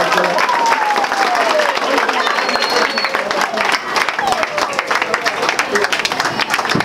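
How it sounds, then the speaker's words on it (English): An audience gives a round of loud, continuous clapping, with many hands close together in a dense crackle. Scattered voices rise through it, and a brief whistle-like glide appears. "A round of applause. Please continue clapping."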